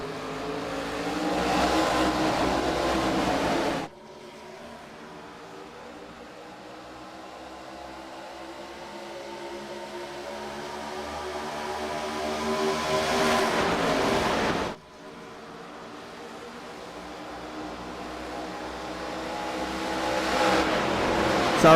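Race cars roar back to speed at a green-flag restart, a dense layered engine drone that rises steadily, breaks off sharply twice as the field sweeps past, then builds again loud and close, with no talk over it.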